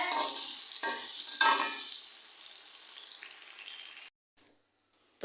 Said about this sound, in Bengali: তো আমি এখন তেলের মধ্যে পেঁয়াজ দিয়ে দিলাম আর এই পেঁয়াজগুলো একটু ভাজা ভাজা হোক